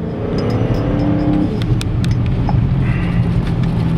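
A new Dodge Challenger's engine rumbles and builds as it accelerates, heard from inside the cabin, steady and fairly loud.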